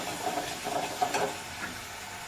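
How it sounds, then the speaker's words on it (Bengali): Masala paste fries in a pan with a soft, continuous sizzle, and a few brief stirring scrapes rise slightly above it near the middle; no voices are heard. "মশলাটা ভালো করে কষে তারপর আমি তরকারিটা দিয়ে দেবো ভিতরে।"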